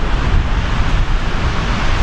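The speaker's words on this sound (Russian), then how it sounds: "Море немножко подштормливает." Rough, choppy sea surf breaking on Benidorm beach in Spain, a steady loud wash of waves with wind buffeting the microphone, continuous with no voices.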